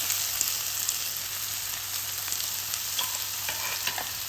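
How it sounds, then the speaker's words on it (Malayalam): Onion with crushed ginger and garlic sautés in a pan for samosa filling, a steady close sizzle with faint scraping stirs toward the end, no voices. "ഇഞ്ചി വെളുത്തുള്ളി ചതച്ച് ഇട്ട് കൊടുക്കാം. ചെയ്തിട്ടുണ്ട് ഉള്ളി ഇട്ട് കൊടുത്ത് നല്ലോണം വഴറ്റിയെടുക്കാം."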